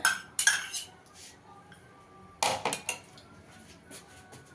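A metal spoon scrapes and clinks against a bowl while strained sour yogurt is added for a mustard, poppy seed and cashew paste for bhetki fish paturi, with two clusters of sharp clinks separated by quieter handling.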